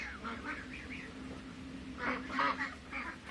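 Young female duck giving short nasal calls among a small group of ducklings around 1.5 to 3 months old, several bursts clustered near the end over a low steady background hum.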